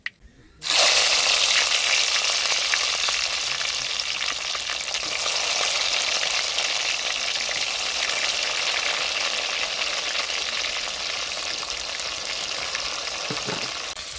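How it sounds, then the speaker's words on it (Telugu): Chopped tomatoes and onions hit hot oil with spluttered mustard seeds, bursting into a sudden loud sizzle that holds steady and close, easing slightly over time, with a light knock near the end; no one speaks. "ఆవాలు చిట్టుపెట్టలు ఆడేసి ముందుగా తరిగి పెట్టుకున్న టమాటా ఎర్రగడ్డలు వేస్తాను"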